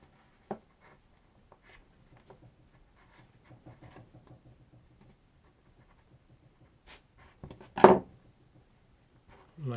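Loose strands being snipped off close by, several faint scattered clicks and light scratches in a quiet room, then a louder cluster of crisp cuts near the end.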